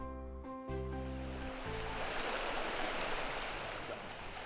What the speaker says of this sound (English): here, we've got a creek behind us that's flooding